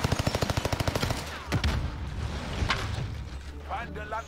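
Rapid automatic gunfire from a PPSh submachine gun in the Warzone video game, a loud fast burst of shots followed by scattered single shots and a player talking over the action.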